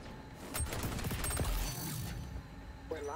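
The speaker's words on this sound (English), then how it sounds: "Changing mag." Weapon magazine being swapped during a reload in the shooter XDefiant: a quick run of mechanical clicks and metallic rattles over background game noise, with a brief late click.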